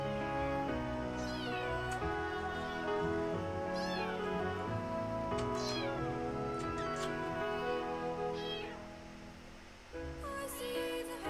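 Kittens meowing with repeated rising cries over a steady bed of music, fairly close and continuous, with a brief dip in level near the end.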